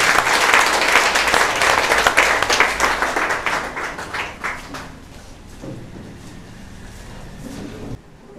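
A church congregation bursts into loud, dense applause that fills the room, then thins into scattered claps and fades out over several seconds, with no speech.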